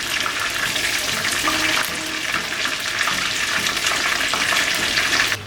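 Chicken frying in hot oil in a pot, a loud continuous crackling sizzle with bubbling and occasional stirring clatter, close and steady throughout.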